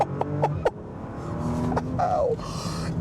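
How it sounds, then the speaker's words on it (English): A Bentley Flying Spur with a W12 engine doing a launch-control start, with a few short clicks and a brief rising squeal before a sustained, building engine roar as the car accelerates. "we're gonna do a launch control"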